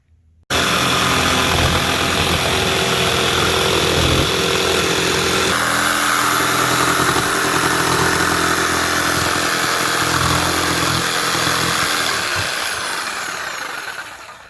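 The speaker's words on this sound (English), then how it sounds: "And then I'm going to use my jigsaw and cut that opening out" A jigsaw cuts an opening through a camper van ceiling for a MaxxFan roof vent, with a loud, close, continuous buzzing saw that starts abruptly and runs steadily before winding down.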